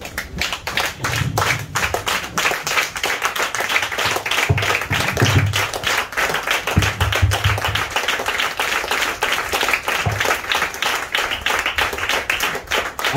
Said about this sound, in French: tu vas acclamer le Seigneur Jésus